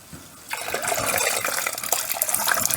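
Coolant water gushes from a car engine after the cap is removed, a sudden, steady splashing pour that starts abruptly and runs on, close and fairly loud.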